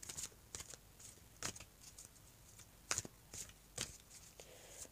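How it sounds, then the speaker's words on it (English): A deck of oracle cards is shuffled by hand in quiet, uneven bursts of soft riffling and clicking taps, close and faint. "shuffle these as best as I can"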